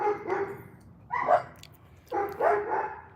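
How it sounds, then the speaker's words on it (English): Neighborhood dogs barking in the Philippines, several short bursts of yapping barks in three clusters, moderately close, with no talk over them. "All the dogs in the neighborhood."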